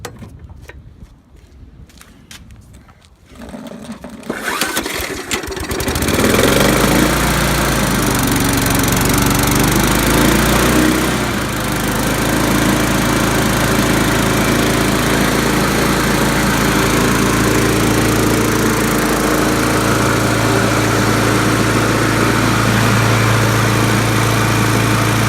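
A 1997 Murray lawnmower engine is primed and pulled; after a few quiet seconds of handling it catches and settles into a loud, steady running drone close by.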